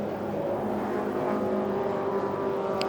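Pre-1966 touring cars race at Silverstone, their engines forming a steady, loud, dense roar that holds throughout without a break, with no commentary over it.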